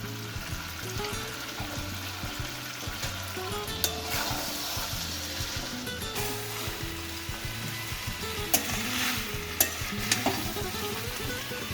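Marinated mutton frying and being stirred in a kadai over low flame, a steady soft sizzle with repeated scraping strokes of the spoon and occasional sharp clinks against the pan.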